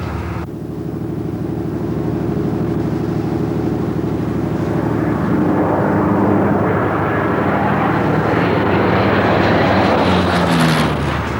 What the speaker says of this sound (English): Oh, look, there's an aeroplane out there. Yeah, that's the Orion.